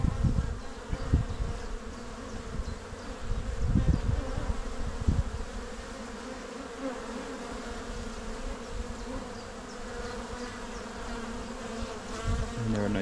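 Honeybees buzz loudly in an open hive during an inspection, a thick continuous drone close by, with some knocks and handling thumps early on.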